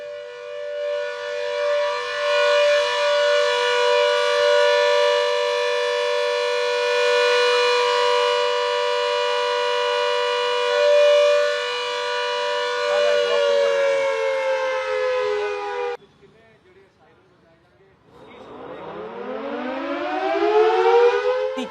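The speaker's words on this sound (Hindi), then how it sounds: "जिस तरह का सायरन वहां पर बजा था, उसकी आवाज सुनाते हैं।" A civil defense air raid siren sounds during a mock drill in Ferozepur, holding a loud, steady wailing tone for about sixteen seconds, cutting out briefly, then winding back up to full pitch.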